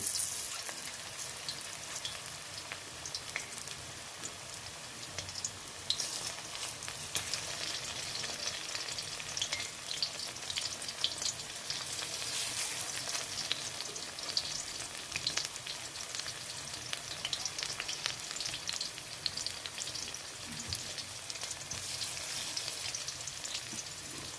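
Vegetable pakoras made with winter vegetables deep-fry in a wok over low heat, giving a soft, continuous bubbling sizzle with scattered crackles, heard near and alone without talk.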